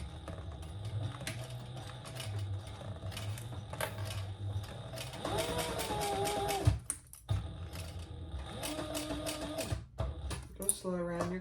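A sewing machine back stitching on a leather waist pack runs in short bursts of steady mechanical whirring and clatter, pausing and restarting, close up, with a person talking over parts of it.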